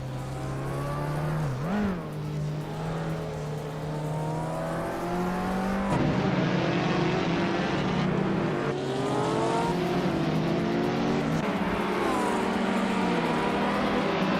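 Race cars in a video game race at Circuit Gilles Villeneuve, including a 2004 Opel Corsa 1600, roaring steadily with engine pitch rising and dropping through gear changes, loud and continuous with several cars overlapping.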